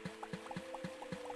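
Soft, regular liquid drips and gurgles as healing water is collected in a video game, repeating in a steady rhythm under a low, constant hum.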